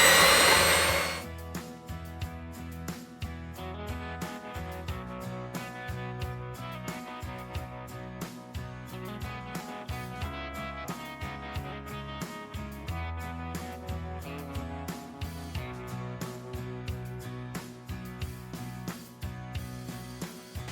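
Cream is whisked to make homemade butter, producing a continuous whirring drone with a steady pulsing rhythm. The sound is close and runs for about twenty seconds without talk.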